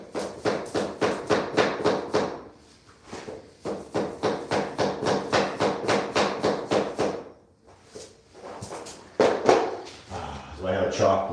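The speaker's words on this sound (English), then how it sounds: "Let me just grab a hammer and see if I can't whack it a little bit." Repeated hammer blows strike a vinyl flooring plank in steady bursts of sharp knocks, two long runs separated by pauses, with a louder, messier stretch near the end.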